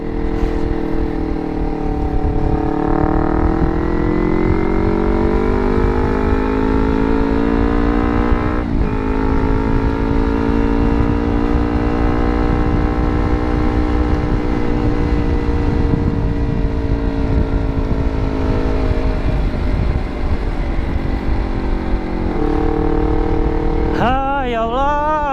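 A loud Suzuki K01D motorcycle engine runs continuously at close range, its pitch rising and dipping unevenly as if straining, with a brief sputtering wobble near the end.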